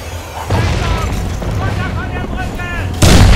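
Gunfire in the video game Crysis 2, with loud booming shots and explosions rolling under a player's voice and the game's sounds, and a heavier blast near the end.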